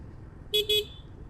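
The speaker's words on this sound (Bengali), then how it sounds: "আমি হর্ন দিয়ে দিলাম সামনে দেখার পরেও।" A car horn gives two quick, close toots in Dhaka traffic during New Year celebrations, heard over a low, steady road rumble.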